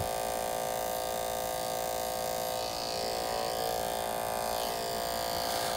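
Electric hair clipper cutting thick hair on a short clipper cut, a steady, close buzzing hum with a strained tone, running unbroken throughout with no talking.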